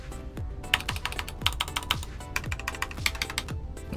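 Brisk, steady typing on a MagicRefiner M31 65% mechanical keyboard with a steel plate, close and clacky, each keystroke a sharp click in a quick even rhythm with no voices.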